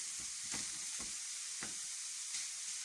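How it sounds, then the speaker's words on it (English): Bacon fries in a pan with a soft, even sizzle and several distinct stirring scrapes or taps spaced through it, fairly quiet and without speech. "Right, so fry your bacon first."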